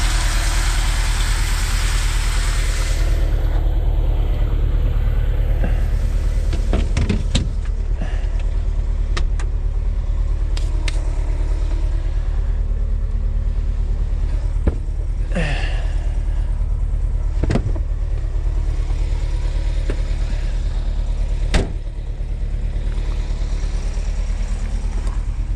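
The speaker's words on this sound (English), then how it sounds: "This thing running. Real smooth motor." A Homepun car engine runs after a cold start, a steady low idle rumble held for a long stretch, with a few sharp knocks and rattles nearby.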